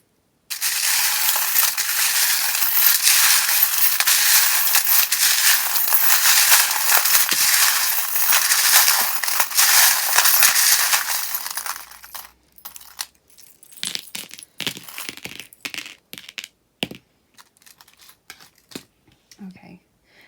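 Dense metallic jingling and clattering of shuffled charms fills the first twelve seconds loudly, then gives way to scattered clinks and small knocks.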